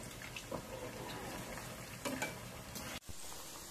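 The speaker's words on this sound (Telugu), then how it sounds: "చామదుంప ముక్కల్ని డీప్ ఫ్రై చేద్దాం." Taro root pieces deep frying in a pan of hot oil, a steady close crackling sizzle running throughout with a brief dip near the end.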